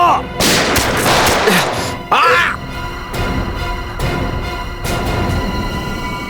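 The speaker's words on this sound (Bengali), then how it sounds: "সিআইডি অফিসারকে গুলি করে দিলি?" Gunfire in a police crime-drama scene: a couple of loud, sharp shots ring out amid noisy, busy background sound.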